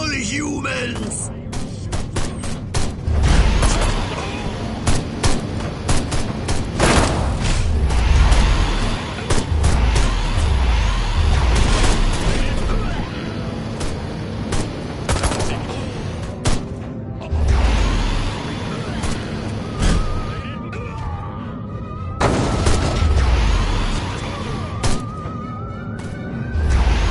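Dense gunfire and thudding impacts from the alien shooter Destroy All Humans, set in a suburb, with repeated loud bursts across a busy mix of vehicle noise and game voices.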